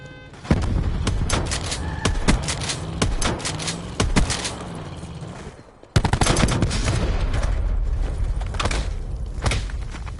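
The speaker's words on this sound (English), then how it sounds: "just try and shoot the gun without reloading." Rapid bursts of MOG fire from CoD Black Ops 4 Blackout on a firing range, loud and close, with dense repeated shots, a brief pause near the middle, then more sustained fire.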